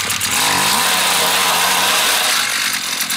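Loud, close power auger engine roaring, its pitch sagging early as the bit strikes a rock in the ground, then droning on steadily.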